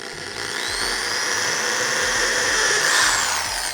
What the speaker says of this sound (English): I will go back with the right size bit to kind of dig out a hole or to drill out a hole